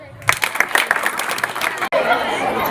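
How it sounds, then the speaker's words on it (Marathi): Students at a school National Mathematics Day event clap together in a brief burst of rapid, fairly close applause mixed with chatter, settling into a dense murmur of voices after a short break. "टाळ्या वाजवा."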